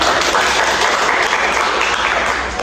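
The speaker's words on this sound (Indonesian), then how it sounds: "Oke, tepuk tangan dulu." Loud, steady applause from a small audience in a classroom setting, many hands clapping in a continuous dense patter that fills the whole moment without talk.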